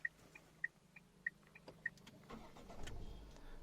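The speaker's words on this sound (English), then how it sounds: "So I'll switch on the car. Okay, and the car will start" A Tata Altroz car engine cranks and starts, heard from inside the cabin, after a few soft repeated beeps; the engine then settles into a low, quiet hum.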